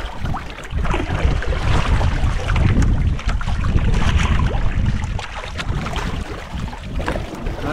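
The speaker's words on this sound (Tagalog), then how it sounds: "Mother boat. Sundo na." Motorboat engine running on open water, a loud steady drone mixed with wind buffeting and splashing, continuous throughout with no voices.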